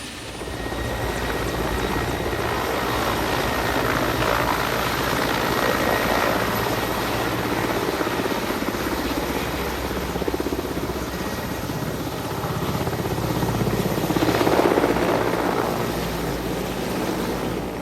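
A helicopter at a helipad beside a Buddhist monastery in Sikkim drones loudly and steadily throughout, its rotor noise filling the air without pause.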